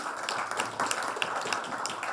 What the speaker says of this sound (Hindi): इसके जोरदार ताली बनी चाहिए भाई।